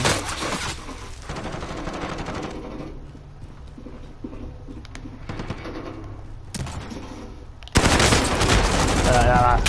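Bursts of gunfire crackle through a video game shootout, with rapid automatic fire and single sharp shots, a quieter stretch in the middle, then a loud dense volley near the end.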